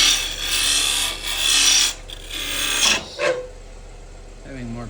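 A wood lathe spins a pepper mill blank as a gouge roughs it down, producing a continuous scraping rasp over a low motor hum that fades to intermittent light contact near the end.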